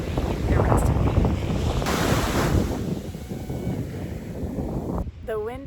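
Surf breaking and strong wind buffeting the microphone at Florence Beach, Newfoundland, a loud continuous wash that eases slightly toward the end as a voice begins talking.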